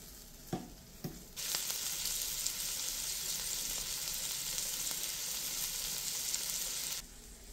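Food sizzles on the hot plate of a clothes iron used as a makeshift griddle. A couple of soft knocks come first, then a steady, close sizzle runs unbroken for several seconds before cutting off abruptly near the end.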